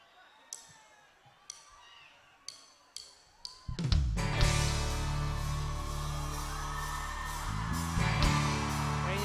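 A crowd celebrating May 19 in Samsun claps a few times, then erupts into sustained loud shouting and cheering that holds for several seconds, close and dense.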